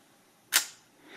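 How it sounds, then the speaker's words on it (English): A single sharp mechanical click of a FED 3 film camera shutter, close and crisp in a quiet room, followed by a faint softer rustle. "You can listen to the shutter."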